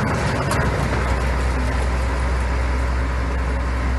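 The Nashorn tank destroyer, the only running example, rumbles with a loud, steady engine note close by, a continuous low drone with no pauses.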